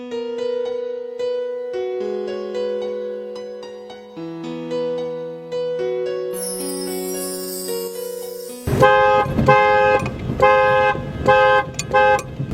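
A car horn honks repeatedly at a cyclist on a village road, sounding as loud, insistent blasts over an engine and steady tonal background music, with the honking growing denser and louder toward the end.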